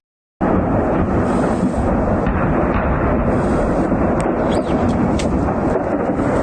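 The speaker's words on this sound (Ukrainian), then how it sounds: "Біля міста Карачів пролунали гучні вибухи, після яких здійнялася пожежа." Continuous heavy booming and rumbling roars without pause from an ammunition depot exploding near Karachev, Bryansk region, Russia, like a string of distant explosions blending into one loud, sustained din.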